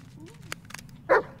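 A dog in the Blair Witch video game gives a few short barks and yips, faint and somewhat distant, ending in one louder bark over quiet ambience.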